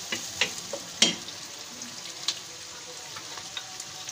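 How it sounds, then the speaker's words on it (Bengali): Chicken curry fries in a pan with a quiet steady sizzle, broken by a few sharp clinks and scrapes of stirring, loudest near the start. "ভালোভাবে নেড়ে নিচ্ছি।"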